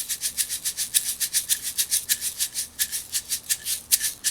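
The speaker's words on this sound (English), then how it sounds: "locking in on some of the finer details of what's happening with a shaker to make it sound like this" A hand shaker played with wrist motion gives a steady, rapid train of crisp, even rattling strokes, close and alone, with regular accents that keep a tight groove.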